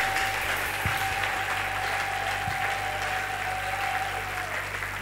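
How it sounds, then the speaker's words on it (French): A church congregation applauds after a sermon blessing, giving steady, dense clapping that holds evenly for about five seconds without any speech. "Applaudissons très fort."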